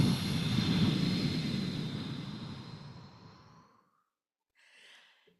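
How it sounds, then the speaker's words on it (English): A long, breathy exhale through the mouth after a nasal inhale, a steady rushing breath that fades out over about four seconds, followed by a brief, softer breath at the end. "we are going to be breathing in through the nose and out through the mouth and really elongating that exhale."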